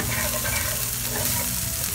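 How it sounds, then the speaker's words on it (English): Meat sautéing in a pot with a dense, continuous loud sizzle and frying crackle, steady throughout with stirring noise mixed in and no talking. "the meat in the pot. I'm just gonna saute all of this"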